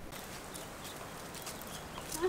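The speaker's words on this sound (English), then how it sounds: "Вот скачет наш красавчик." A horse moving outdoors on Gili Trawangan during a photoshoot, its hooves giving faint, soft clip-clops under a broad steady wash of background noise.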